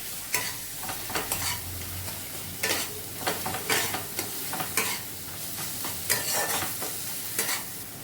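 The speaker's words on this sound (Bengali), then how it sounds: "এবার এইসব কিছুকে ভালোভাবে মিশিয়ে নেব" A spoon stirring a spice and salt mixture in a pan over medium heat, rhythmic scraping strokes repeating every half second or so over a soft background sizzle, close and moderately loud.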